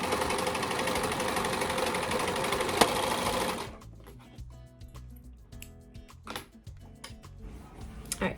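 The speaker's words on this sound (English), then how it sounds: "we're just going to connect it with the serger here on the edge" A serger sewing machine edges a linen fly piece for pants, a loud, fast, steady whirring stitch for several seconds before stopping, followed by quieter handling clicks and fabric rustle.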